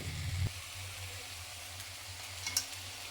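Masala for a crab curry sautés in a pan with a faint, even sizzling hiss and one light utensil tap near the end.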